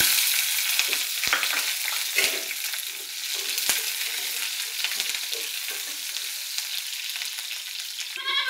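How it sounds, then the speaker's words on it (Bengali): Chopped onions and green chillies fry in hot oil with a loud, continuous sizzle, sharp crackles and a few stirring clicks, close up with no talking. "এখন আমি দিয়ে দেব কাঁচামরিচ এবং পেঁয়াজ কুচিটা"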